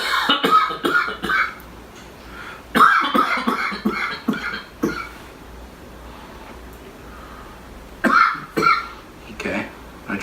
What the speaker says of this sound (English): you mind giving me a cough?